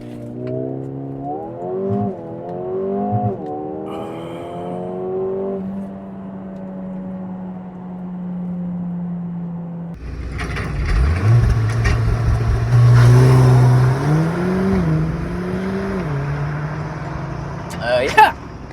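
A Mercedes-AMG GLA35 with a dual-clutch gearbox in Sport Plus accelerates hard from a launch control start, the engine climbing through rapid upshifts, then a second loud pull with rising revs heard from inside the cabin.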